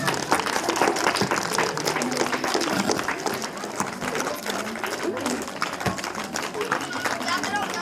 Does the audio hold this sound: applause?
yes